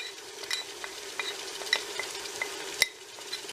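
Ginger and garlic paste, red chili powder and dried coriander sizzle in a pan for chicken biryani while a utensil stirs them, producing a steady close frying hiss with light scraping clinks.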